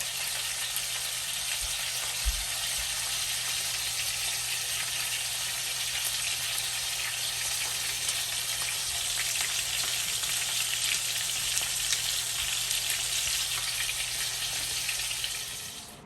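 Steak frying in a pan, a steady broad sizzle holding close and loud for the whole stretch, no talking over it.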